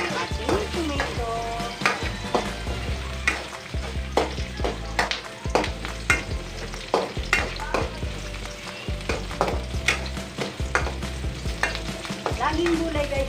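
Onion frying in a pan for a Filipino sautéed dish sizzles steadily up close, broken by regular scraping stirs of a utensil against the pan.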